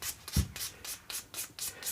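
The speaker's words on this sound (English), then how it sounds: "I'm hitting this with 240 grit" A raw wooden guitar body, a baritone guitar build, is worked with 240 grit sandpaper in steady back-and-forth strokes, about seven rhythmic rasping passes close to the microphone, with a soft bump partway through.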